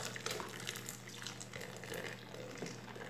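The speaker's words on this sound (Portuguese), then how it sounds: "Tenho 3 litros aqui de água, mas vou acrescentar devagar" Water, some of it hot, is poured steadily into a bar-soap mixture for a concentrated fabric softener, making a soft, continuous splashing wash with no speech.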